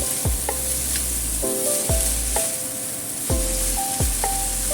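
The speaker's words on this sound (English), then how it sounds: "Then do a little bit stir fry." Chow mein stir-fried with soy and oyster sauce in a pan, a constant hiss of sizzling broken by repeated clanking spatula strikes and scrapes in an uneven rhythm, close and fairly loud, no voices.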